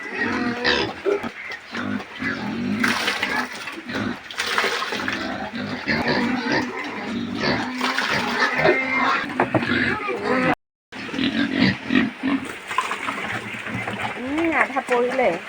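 Five-month-old farm pigs grunt and snuffle repeatedly at close range, with a faint trickle of water in the background and people talking over them throughout.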